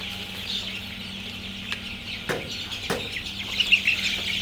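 Eleven-day-old classic super hybrid chickens give soft, scattered clucks and chirps at feeding time, faint and continuous, with a few light knocks and no talking.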